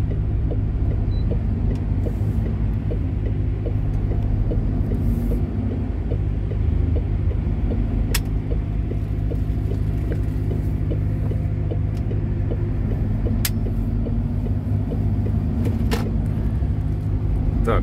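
A semi truck rolls through Krasnoyarsk city streets, its steady, loud low engine rumble and road drone continuous throughout, with a faint regular ticking and a few brief sharp clicks over it.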